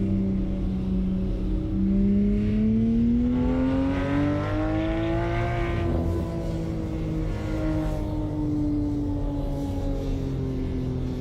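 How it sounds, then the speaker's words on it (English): In Assetto Corsa, a car's exhaust rises in pitch as it accelerates through the gears, then settles into a sustained deep drone. The tone is continuous and steady at a moderate level, with no speech over it. "I like the sound of the exhaust."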